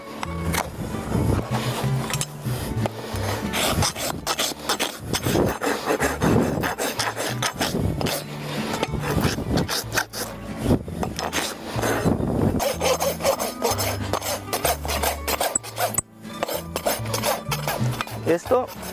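A farrier's rasp scrapes across a horse's hoof in steady, rough strokes to level it, loud and continuous with brief pauses between passes.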